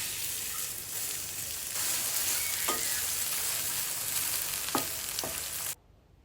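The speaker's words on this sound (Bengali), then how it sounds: "আর এদিকে আমি বাগারের জন্য তেল দিয়ে পেঁয়াজ ভেজে নেব।" Onions fry in oil for a tempering with a steady close sizzle. A few short metallic taps of a spoon break through before the sound cuts off abruptly at the end.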